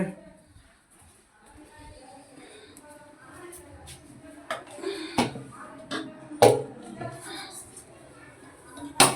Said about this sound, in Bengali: এই কড়া বসানো হয়ে গেল, গ্যাসটা জ্বালিয়ে দিচ্ছি।